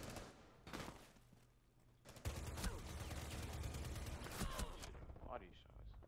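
Gunfire bursts from a tactical shooter video game, several sharp shots and a rapid volley in the middle of a busy mix, heard beneath players talking over voice chat.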